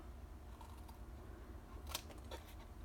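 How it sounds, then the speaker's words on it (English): Scissors snip along a score line in paper for a Valentine treat box, giving a few crisp, close cuts that stand out from a quiet room hum. "follow that score line. Snip that off."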